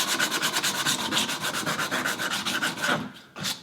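Sandpaper is worked hard over the wooden underside of a toy crossbow, giving a fast, even run of rhythmic back-and-forth rasping strokes up close, pausing briefly before one last stroke.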